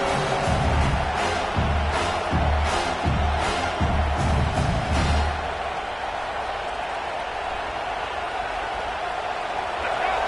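Loud, dense college football stadium crowd roaring during a South Carolina versus Florida game, with rhythmic chanting or stomping pulses in the first half that fade into a steady sustained roar.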